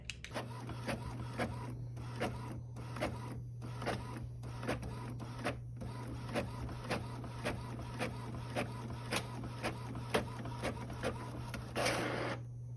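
An Epson ET-4800 sublimation printer prints steadily under a constant motor hum, its print head shuttling back and forth in regular rhythmic passes, quiet and close, ending with a short whirring feed.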